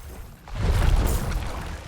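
In Diablo 4, a sudden booming explosion swells after a brief quiet moment, then rumbles and fades slowly.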